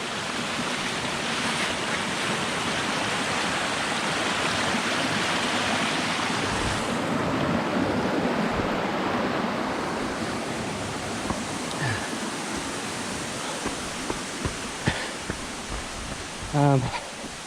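Rushing stream beside a hiking trail, a loud broadband wash of water that fills the scene, easing slightly later with a few brief knocks and a short voiced sound near the end.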